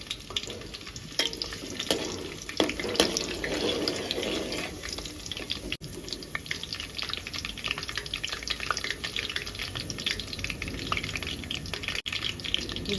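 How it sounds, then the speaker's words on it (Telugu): Green chillies sizzle and crackle in hot oil in a pan, the first stage of a crab curry, a continuous bright frying hiss with scattered pops and a few stirring scrapes. "ఆయిల్ వేడైన తర్వాత పచ్చిమిర్చి వేసుకోవాలి"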